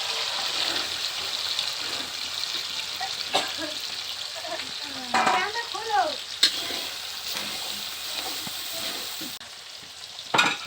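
Green peas hitting hot oil in a pan sizzle and fry steadily, with a few scraping stirs and clinks of a utensil against the pan, close and moderately loud, with no talking.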